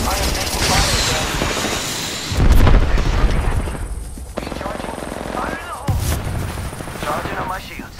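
Grenade explosion and gunfire in Apex Legends on PS4 Pro: a loud booming blast and repeated gunfire bursts mixed with game noise, with voices talking over parts of it.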